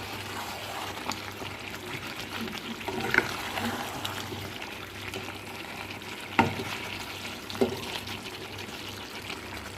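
Cold water is poured into a pan of frying, sizzling food for a festive meal, giving a steady bubbling hiss with a few sharp pops and clatters.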